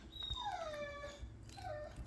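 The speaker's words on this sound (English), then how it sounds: "Yeah, you can hear my dogs. They're waiting." Pet dogs whine and whimper in two drawn-out, falling cries, the second shorter, at close range with steady room noise beneath, while they wait for smoked ribs to finish cooking.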